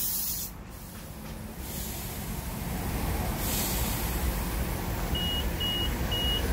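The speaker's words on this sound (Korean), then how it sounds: "저기서 삐삐 소리 나면은 기계에서 빼시면 돼요" Three short electronic beeps from a tire inflator machine sound in an even rhythm near the end, signalling inflation is done, over a steady hiss of air and a low engine hum.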